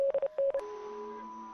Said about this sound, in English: I can't figure out friggin' Morse code